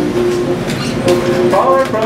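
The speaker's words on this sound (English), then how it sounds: "We're about to go for a train ride." A tourist train at Calico Ghost Town, California rumbles along with rhythmic wheel clatter and faint squeals of metal, close and fairly loud for a couple of seconds.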